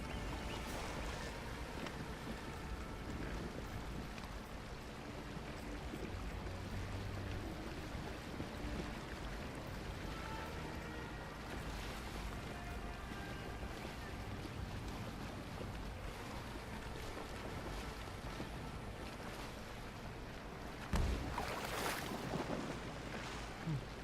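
A boat rowed across open water in the game Assassin's Creed Origins, with steady washing water and wind noise running continuously at a low level, and a louder splash or thump near the end.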